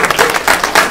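Members at a general membership meeting clap for a colleague's promotion, a brief, loud patter of applause from a nearby crowd with a voice faintly mixed in.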